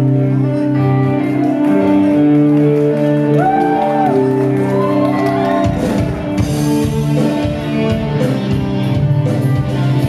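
A loud crowd at a rock bar tribute show shouts and whoops over steady amplified music, voices rising in bursts throughout, with louder cheering swelling toward the end.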